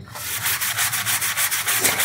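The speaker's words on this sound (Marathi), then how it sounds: "घासणीच्या साहाय्याने तुम्ही अगदी हलक्या हाताने जरी घासलत ना तरी देखील हा सगळा लेअर निघून जायला मदत होईल" A scrubber rubs gently over an old clay water pot, making a close, steady series of rhythmic, raspy scrubbing strokes without pause.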